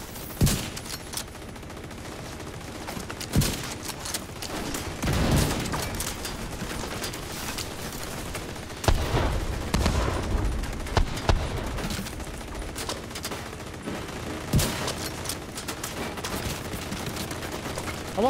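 Gunfire in The Division 2 video game during a firefight in an arena, with bursts of automatic shots and single cracks scattered throughout, close and sharp against a steady combat din.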